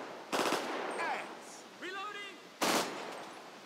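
Gunfire from GTA 5 during a zombie outbreak military patrol: two short loud bursts of rapid shots, separated by quieter game sounds and a faint voice.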